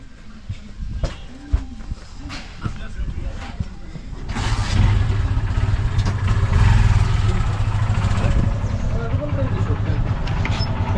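A vehicle engine runs while driving, a low steady hum that swells and holds from the middle of the stretch, with faint voices and scattered knocks over it.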